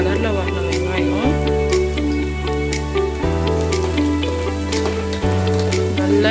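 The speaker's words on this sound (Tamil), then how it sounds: "இந்த மாதிரி நல்லா வதக்கி விட்டுட்டே இருங்க ஒரு 5 நிமிஷத்துக்கு" Onions sauté in a pan for vegetable biryani with a continuous crackling sizzle, heard together with prominent background music that changes in steps.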